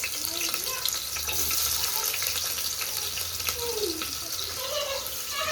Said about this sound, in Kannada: ಇವಾಗ ಆನಿಯನ್ ಹಾಕ್ತಾ ಇದೀನಿ. ಎಣ್ಣೆ ಕಾಯ್ದಿದೆ.